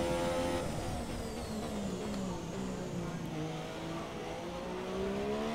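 A race car engine on a flying lap in a racing video game: a steady, strongly tonal whine that rises and falls through gear changes, with faint tire noise and no talking.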